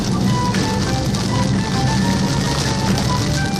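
Hail and heavy rain pound a car during a storm chase, a dense, loud, continuous drumming with scattered sharper impacts on the body, plus faint tonal whines in the background.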